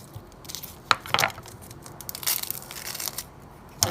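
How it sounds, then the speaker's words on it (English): A knife cuts the tip off an onion on a cutting board, giving a few sharp crunchy snaps and crackles close to the mic with quiet pauses between them. "So let's show you how I want to cut my onion. So very simple, just cut a little tip."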